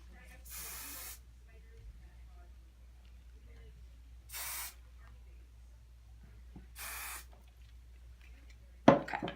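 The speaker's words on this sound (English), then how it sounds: "And I'm going to just spray it down." Three short hissing bursts of hairspray, evenly spaced a few seconds apart, with quiet pauses between and a brief clatter at the end.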